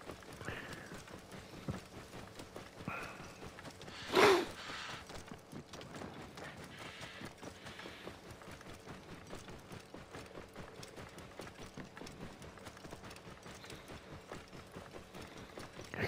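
Horse hooves clip-clopping steadily as a rider travels in the Egyptian setting of Assassin's Creed Origins, a continuous galloping rhythm at moderate level with one brief louder burst partway through.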